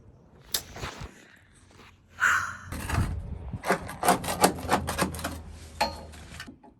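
Dry cracking and scraping sounds as dry-ice-frozen sound deadening is broken off a Nissan 240SX interior, irregular brittle snaps and rasps of material breaking away, close by with bursts of rubbing.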